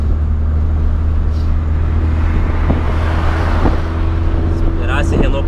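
Volkswagen Gol Quadrado engine pulling hard in fourth gear on a highway, a steady loud low drone of road and engine noise from inside the car, with speech also present in the car.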